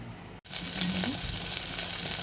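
Spices sizzle loudly in hot ghee, the crackling starting abruptly after a brief silent gap and continuing steadily and close up.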